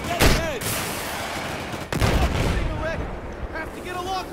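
An RPG rocket launches and explodes in Battlefield 4, with a loud blast near the start and another heavy boom about two seconds in, set against dense battlefield noise with a voice briefly underneath.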